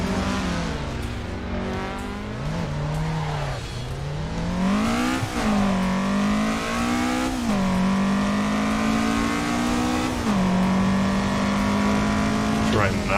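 A Toyota AE86 engine revs and wails in Assetto Corsa during circuit drifting, its pitch climbing and dropping through repeated shifts and throttle bursts, loud and continuous with tire squeal mixed in.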